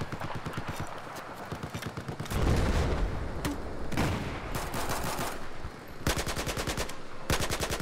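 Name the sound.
gunfire in Battlefield 4 video game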